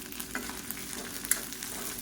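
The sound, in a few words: small onions, tamarind and red chillies sautéing in a pan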